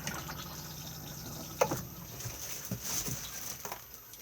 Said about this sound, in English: Blue button to flush.